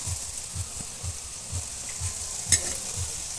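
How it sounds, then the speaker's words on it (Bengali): Chana dal frying in hot oil for crunchy dalmut, a steady sizzling hiss with regular low stirring pulses about every half second and one sharper scrape near the end, close and moderately loud. "তেলের উপর এবার ভাজতে শুরু করে দিয়েছে"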